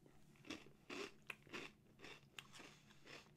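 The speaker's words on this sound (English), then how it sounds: "As you can hear, it is very crunchy." Close, quiet crunching as someone bites and chews a soy sauce black sesame rice cracker, about six or seven distinct crisp crunches in an uneven rhythm.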